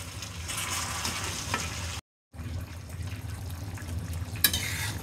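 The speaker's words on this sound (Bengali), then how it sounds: "তাহলে এটা ভালো করে হোক, কষানো হোক।" Chicken curry fries in a pan while being stirred, giving a constant close sizzle with soft scraping; the sound cuts out for a moment and then resumes, ending with a sharper clack.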